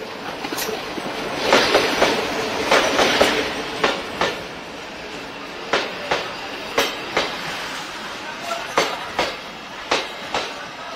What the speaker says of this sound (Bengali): এই মুহূর্তে আলমডাঙ্গা রেলওয়ে স্টেশনে একটু ট্রেন আসছে।